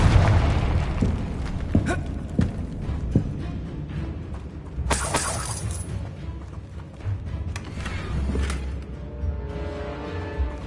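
The Confringo blasting spell explodes in Hogwarts Legacy, several booming bursts with crackling debris, the biggest hit loud and sudden midway, set against an ongoing rumble with a voice briefly heard.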